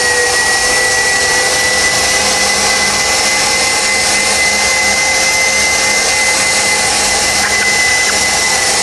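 An electric meat grinder grinds meat for a terrine, giving a loud, steady motor whir and hum that continues without a break.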